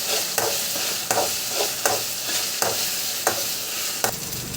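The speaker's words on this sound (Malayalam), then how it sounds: "നന്നായിട്ടൊന്ന് വാട്ടി കൊടുക്കാം." Vegetables for an egg dish sizzling in a frying pan, with a steady hiss and a regular scrape of a spoon stirring about once every second, close up, with no talking.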